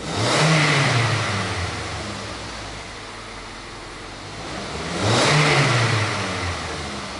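A Toyota Fielder with a misfire revs and stumbles under acceleration, its engine surging loudly twice with a hesitant, uneven rise and falling back to a rough idle between the revs.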